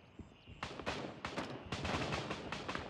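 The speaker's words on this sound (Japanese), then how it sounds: "すごい銃声ですねほんと" Gunfire in the military shooter game Gray Zone Warfare: a rapid burst of sharp, loud shots, some in quick automatic strings, following a brief quiet moment and carrying on to the end.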